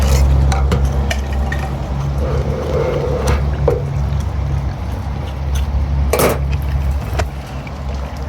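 A cleaned steelhead salmon rinsed out with water outdoors: a close, continuous splashing and sloshing with scattered knocks and scrapes against a surface.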